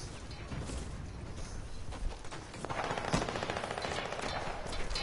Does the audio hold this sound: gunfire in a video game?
yes